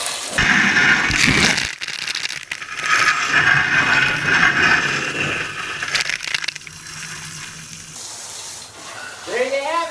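Water sprays and splashes inside a Frigidaire dishwasher whose spray arms had not been spraying, a loud rushing wash with clunks and shifting intensity, near and mostly alone.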